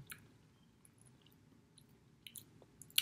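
Quiet, close chewing on an Alpine milk chocolate bar with crunchy caramel and sea salt, with soft wet munching and a few faint crunches and clicks and no talking.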